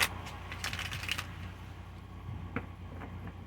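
A quick flurry of papery riffles and taps up close as a new tarot deck is shuffled, then a few soft clicks as the cards settle.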